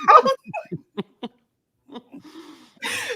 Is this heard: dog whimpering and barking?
yes